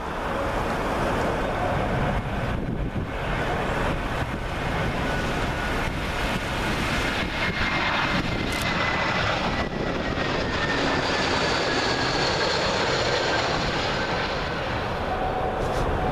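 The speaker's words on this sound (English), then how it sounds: "Up next, another British Airways A320. This one from Edinburgh." A British Airways Airbus A320 in from Edinburgh roars steadily and loudly close overhead on approach to Heathrow's runway 27L, with broadband engine noise and a faint descending whine over a constant rumble.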